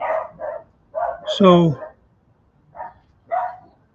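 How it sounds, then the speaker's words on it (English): Several dogs barking in short bursts close by, a few sharp barks spaced across the moment, with a person speaking over them. "Oh my God, these dogs!"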